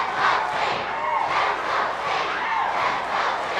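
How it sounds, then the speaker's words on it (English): A wrestling arena crowd at a Sting versus Slater match roars and shouts loudly and continuously, with surging waves of cheering. "listen to this crowd"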